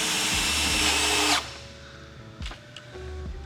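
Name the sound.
drill driving self-tapping screws into car side skirts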